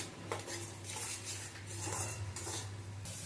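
Spice masala with turmeric and salt being stirred and sautéed in a pan for a Bengali fish dish, with a metal spoon scraping and clinking against the pan over a faint steady sizzle and low hum.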